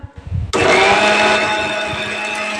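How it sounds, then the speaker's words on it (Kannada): After a brief rustle, an electric mixer grinder starts abruptly and runs with a loud, steady whirring roar, very close, in a home kitchen. "ಹಾಂ ಚಲೋ ಮಾಡು, ಮಿಕ್ಸಿ ಚಲೋ ಮಾಡು"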